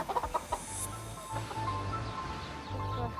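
Chickens cluck and murmur softly in the background, with a few sharper calls at the start and a low steady hum underneath.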